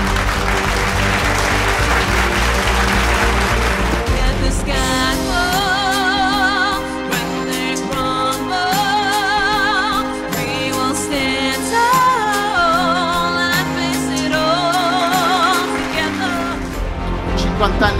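Audience applause opens a company's 50th-anniversary celebration for a wire-industry machine manufacturer, a brief wash of clapping that gives way to music and voices for the rest.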